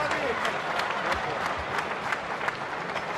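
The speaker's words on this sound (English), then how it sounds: "Crowd here enjoying this one." A boxing arena crowd keeps up a steady wash of applause and cheering at a distance, with scattered claps poking through, while a commentator talks over it.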